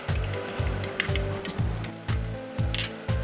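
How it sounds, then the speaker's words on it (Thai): Hot oil sizzles constantly as garlic and shallots fry while a utensil stirs and scrapes the pan in a rhythmic back-and-forth, roughly twice per second, close by. "เมื่อน้ำมันในกระทะเริ่มร้อนเรียบร้อยแล้วนะครับ เราก็เริ่มด้วยเจียวกระเทียมแล้วก็หอมแดงเลยครับ"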